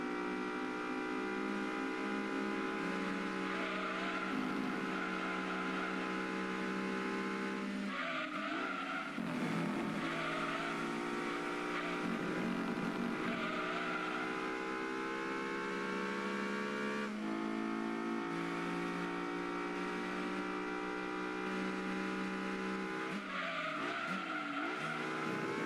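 A Mitsubishi FTO GPX racing in Gran Turismo 2, its engine droning at steady high revs with shifting pitch, interrupted by repeated tire squeals and skids through the corners.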